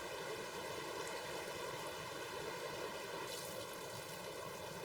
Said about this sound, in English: at the moment you've got all this water just cascading down here